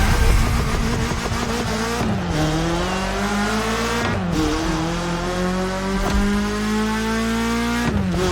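A BMW M3 engine in the racing game The Crew Motorfest revs hard and loud through rising pitch sweeps, dropping briefly at each gear shift about every two seconds.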